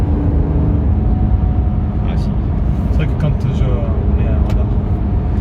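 A Maserati GranTurismo hums at a low, steady drone while being driven, its engine note running continuously under the cabin as people talk over it.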